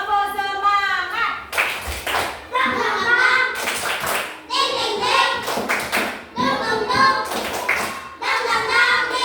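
Children in a classroom perform a tepuk semangat spirit clap, loud bursts of rhythmic group clapping in short patterned phrases alternating with a teacher's voice and children chanting between the clap sequences.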